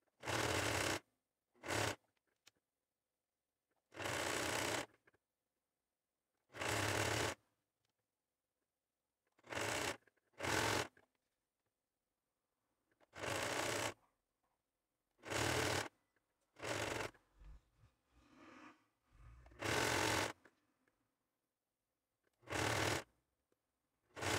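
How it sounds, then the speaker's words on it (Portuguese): Sewing machine running zigzag stitches along the edge of a fabric panel while turning a jumpsuit into a two-piece set, in repeated short bursts of steady whirring separated by quiet pauses. "E eu vou passar uma costura zigue-zague aqui na borda do meu tecido."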